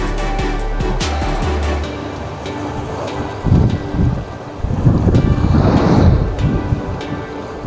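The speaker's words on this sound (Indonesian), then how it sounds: "Ini lumayan berangin, bro" Strong wind at sea buffets the microphone in loud rumbling gusts during sabiki-rig fishing, with water sloshing and a boat-like drone underneath.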